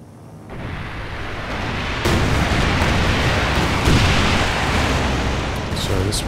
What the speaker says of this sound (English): And now the Soviet rocket run against the Panzer IV.